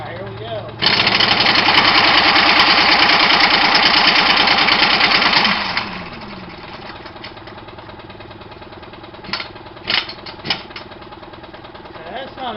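An engine on a teardown stand runs with its bolts loosened, giving a loud, rough, rattling roar for about five seconds before dropping to a quieter idle with a few sharp knocks near the end.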